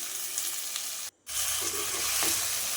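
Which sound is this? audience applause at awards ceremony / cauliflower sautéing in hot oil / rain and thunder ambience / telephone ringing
cauliflower sautéing in hot oil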